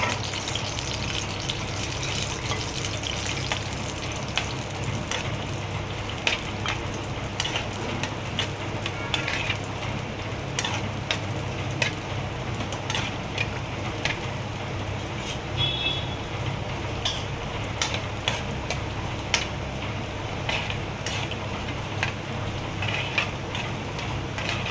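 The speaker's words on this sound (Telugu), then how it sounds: "ఇప్పుడు ఈ కాజు బాదము వేయించుకోవాలి." Cashews and almonds fry in homemade ghee, a steady bubbling sizzle with faint crackles that runs evenly for the whole stretch without talk.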